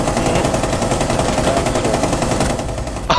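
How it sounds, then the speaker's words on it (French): Dense, loud automatic gunfire in Rainbow Six Siege, bursts running back to back for several seconds before a sharp final crack. "Je tire partout!"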